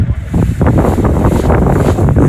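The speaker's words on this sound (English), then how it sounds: "sorry about the wind" Gusty wind roars across the microphone at a beachside house construction site in Barbados, a loud, continuous buffeting rush with no other sounds standing out.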